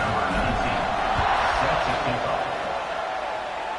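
Football stadium crowd at a college game against Clemson cheering before kickoff, a loud continuous roar of many voices filling the space, with an announcer talking over it.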